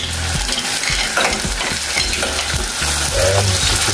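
Washed clams go into a hot pan and are stirred for a squid and clam pindang broth, giving a loud, close sizzle with rattling, scraping stirring strokes throughout and no speech.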